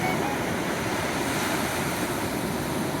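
Ocean waves roll onto the shore at San Fernando Beach, a loud, continuous roar of surf mixed with wind buffeting the microphone. No one talks.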